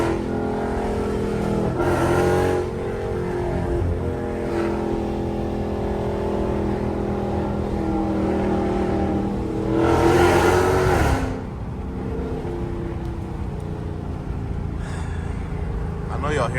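A Chrysler 300 with a 5.7L V8 and BBK long tube headers rumbles from inside the cabin, its steady deep exhaust drone swelling in two revving bursts, with a voice speaking over the engine.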